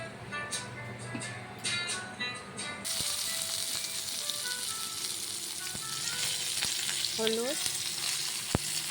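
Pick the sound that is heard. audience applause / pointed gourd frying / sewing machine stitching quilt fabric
pointed gourd frying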